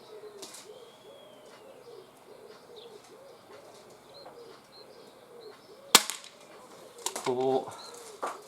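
Umarex UX SPA 100 spring air pistol fired outdoors, a single sharp crack near the middle, with a second burst of clatter shortly after, over birdsong and cooing doves in the background.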